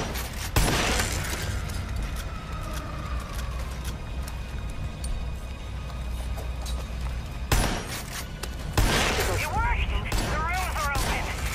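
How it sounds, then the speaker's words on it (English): Loud bursts of gunfire and explosion-like blasts in Far Cry 5, sudden sharp hits breaking up a busy background of mechanical effects, with a voice talking in places. "I think there's explosions"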